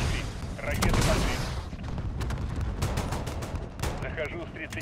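Loud, continuous barrage of missile and gunfire blasts in Call of Duty: Modern Warfare, sharp cracks piling over a heavy rumble, dense and close throughout.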